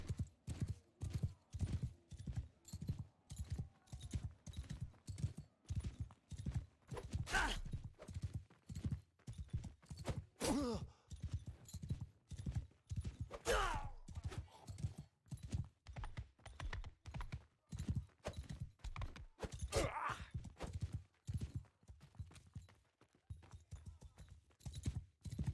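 Horse hooves clip-clop in a fast, steady rhythm in Mount & Blade II: Bannerlord, a long run of close, even hoofbeats with a few brief whinny-like accents and no talk.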